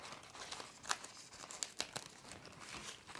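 A centre piece is pulled out of a large Betallic Megaloon foil balloon after a start with scissors, giving close, crinkly foil rustles and sharp tearing crackles in uneven bursts, with no voices.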